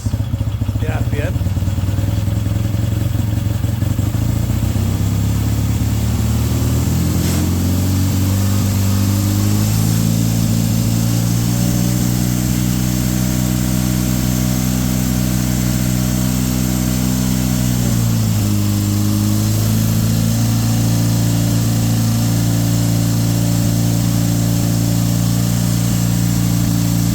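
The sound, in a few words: Triumph T140/T120 motorcycle engine revving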